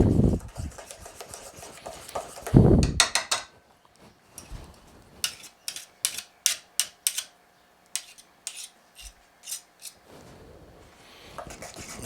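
Whisk stirring cream cheese coffee cake batter in a bowl, heard as a run of quick, sharp clicking strokes against the bowl between softer scraping and rubbing passages, fairly close and moderately loud, with no talking.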